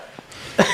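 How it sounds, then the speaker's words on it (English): A single person's short cough near the microphone, a sharp burst toward the end of a brief, quiet moment during a tabletop role-playing game session. "I cough and I point where the radio station is on the map"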